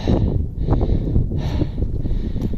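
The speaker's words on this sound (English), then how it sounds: "it's quite windy up here, surprisingly." Strong wind buffets the microphone on a hilltop at Castle Dinas Bran in loud, gusty rumbles that rise and fall, with a faint hiss on top.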